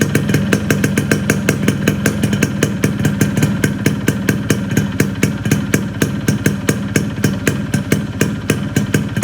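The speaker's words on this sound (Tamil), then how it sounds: "நீங்கள் இந்த வண்டியோட சவுண்டு எப்படி இருக்குன்னு பாருங்கள்." A 1991 Japan-made Yamaha RX100 motorcycle idles close by with a loud, steady, evenly pulsing exhaust beat that continues throughout with no voices.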